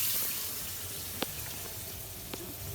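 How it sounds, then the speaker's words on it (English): Water running from a sink tap after a cracked plastic sink pipe was repaired, a steady close hiss of flow with a couple of small clicks, no voices. "we're going to turn the water back on and see if our leak is fixed"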